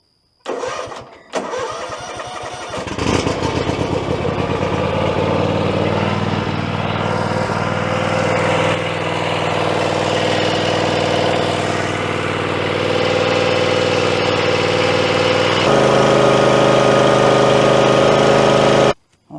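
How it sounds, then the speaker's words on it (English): A lawn mower engine cranks, sputters and catches, then settles into a steady loud idle with a rough mechanical drone, recorded up close; it hesitates and gives off a lot of white smoke. "I'm going to start the engine."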